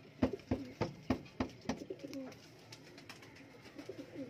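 Teddy pigeons cooing up close, a quick run of about six soft, evenly spaced coos followed by quieter, irregular cooing and rustling in a calm setting.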